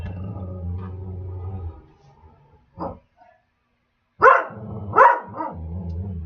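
A puppy barks indoors, a few sharp close yaps spaced across several seconds, with a low murmur and quiet pauses between them.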